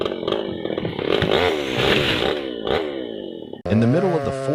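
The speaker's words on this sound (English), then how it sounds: "A worker wearing a hard hat, holding a chainsaw, the sound of the saw echoing in the quiet space." A chainsaw cuts into a burnt black tree trunk in a forest, its engine roaring loud and close with rising and falling pitch as it revs and bites, then briefly drops before surging again; a narrating voice talks over it.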